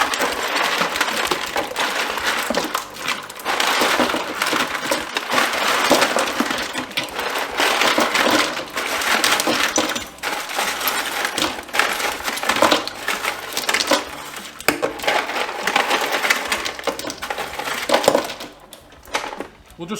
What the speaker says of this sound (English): Here's my whole ice tray. I'm just gonna carefully